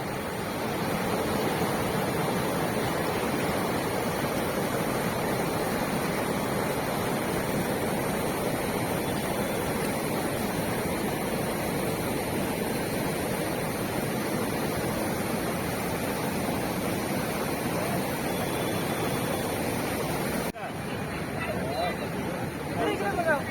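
The Sindh River rushes past its bank along the road from Wayil to Sonmarg, a steady, loud, broadband roar of flowing water that continues unbroken for the whole stretch, with a voice talking over it.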